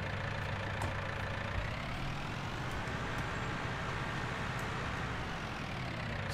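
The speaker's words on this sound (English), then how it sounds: "The engine sounds will link to the John Deere 8400R." A John Deere 6010 tractor idles in the Farming Simulator 19 PC game, a steady, faint low engine hum that runs unchanged throughout with a few small clicks on top.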